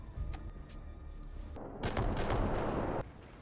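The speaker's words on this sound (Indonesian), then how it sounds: "Fernie langsung meledakkan bom tersebut tepat di atasnya." Bomb explosion in the film The Ice Road, set on an icy mountain: a deep booming blast swells into a loud, roaring rumble of debris for about a second before cutting off abruptly.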